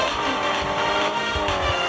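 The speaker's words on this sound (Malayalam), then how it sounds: "നമുക്ക് ഒന്നുകൂടി ഡ്രിഫ്റ്റ് ചെയ്യാം." A car drifting in a car simulator video game, its engine holding a steady high drone with tire squeal, continuous and loud with no talk.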